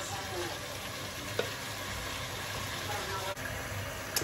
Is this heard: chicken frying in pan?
yes